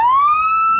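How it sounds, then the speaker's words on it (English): Police siren on a test run, a single loud rising wail with strong harmonics that climbs and holds steady, alone without talk. "real police siren, huh? And that's only a fraction of how loud it can sound."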